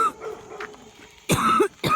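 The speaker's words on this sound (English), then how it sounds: "Excuse me for the coughing." A sick adult coughs on a farm, a few harsh close bursts, one faint and then two loud ones separated by short pauses, with a brief throaty sound between them.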